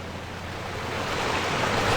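A waterfall in the video game Farming Simulator 19, a steady broadband rushing roar that swells slightly louder over two seconds, continuous and unbroken, with no talking.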